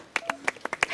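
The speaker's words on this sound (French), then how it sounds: "Merci à vous, bravo. On applaudit." Several people clap in a short burst of about six sharp, separate claps at close range, part of a first-aid rescue training session.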